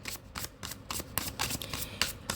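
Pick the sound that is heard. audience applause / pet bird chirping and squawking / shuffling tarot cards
shuffling tarot cards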